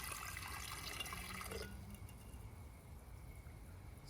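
Two chemical solutions being poured together while recovering gold from DDR and PC133 RAM chips, with a steady close pouring splash of liquid that stops partway and leaves a quiet hiss.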